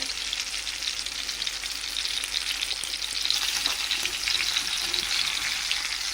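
Fish coated in masala frying in a generous layer of oil in a pan, a steady close-up sizzle and crackle that holds throughout and swells slightly louder in the second half, with no voices.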